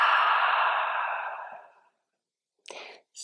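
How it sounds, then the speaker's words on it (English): A long, breathy exhale during a yoga flow, close and steady, fading out gradually, followed after a short silence by a brief soft breath. "Exhale it out."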